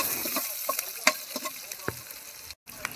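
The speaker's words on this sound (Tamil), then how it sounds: "சோம்பு, கடலைப்பருப்பு, அப்புறம் உளுத்தம்பருப்பு சேர்த்து நல்லா பொரிய விடுங்க." Fennel seeds, chana dal and urad dal sizzle and crackle in hot oil for an egg scramble, with small pops scattered over a steady frying hiss.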